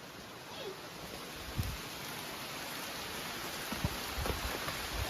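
Heavy rain pours outside a countryside house in a storm, a dense, steady hiss of drops with a few louder splashes and knocks, fairly faint and continuous, with no voices.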